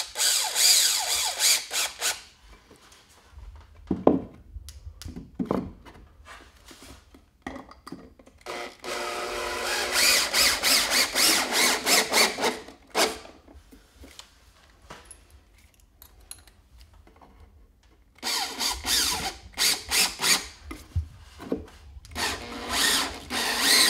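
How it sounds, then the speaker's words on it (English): A power drill drives screws into wooden blocking between joists while framing a basement wall, giving several separate whirring bursts with quiet handling gaps between them, close and fairly faint, with no talk. "now that's installing the blocking in with screws"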